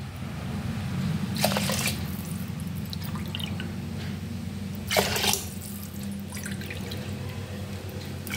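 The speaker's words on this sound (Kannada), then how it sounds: "ಆ 1 ಕಪ್ಪಿಗೆ 3 ಕಪ್ನಷ್ಟು ನಾನು ನೀರನ್ನು ಹಾಕ್ಕೊಳ್ತೀನಿ" Water is poured over rice in a pressure cooker, giving a steady low gurgling stream with two brief brighter splashy bursts, close and fairly loud with no talking.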